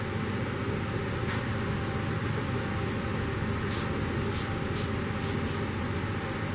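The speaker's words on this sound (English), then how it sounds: "It says it's 4-way penetrating lube." Aerosol can of 4-way penetrating lube spraying onto rusted fender metal of an old Dodge, a few short hissing bursts near the end over a constant background hum.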